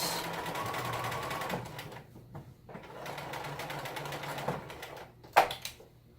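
Sewing machine stitching a Halloween costume, running in steady rapid bursts that pause briefly as corners are turned, with a sharp click near the end.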